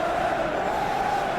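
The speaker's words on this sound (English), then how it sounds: "You can hear the annoyance in the crowd." Simulated football crowd in a Premier League video game match between Aston Villa and Liverpool, a steady, dense stadium murmur that sounds displeased after an offside call, continuous and fairly loud throughout with no distinct peaks.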